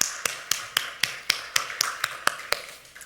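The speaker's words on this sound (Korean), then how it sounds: "각자의 자리에서 박수로 서로 환영하겠습니다." Church members at an online worship service clapping in welcome, heard as about a dozen sharp, evenly spaced single claps from a small group, close and fairly clear.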